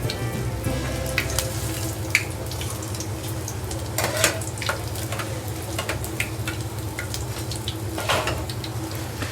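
Colocasia (arbi) leaf pakoras deep-frying in hot oil, a steady close sizzle and bubbling with scattered crackles and pops throughout, no voices.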